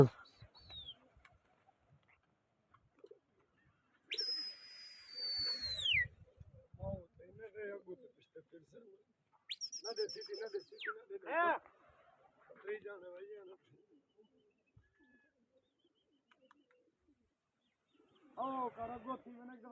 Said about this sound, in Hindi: दूसरी हवा कबूतर उड़ रहे हैं